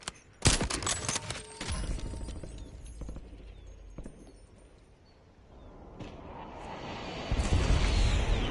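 Rapid bursts of gunfire from a gun in a shooter video game, loud sharp volleys at the start, then scattered shots and a swelling roar toward the end.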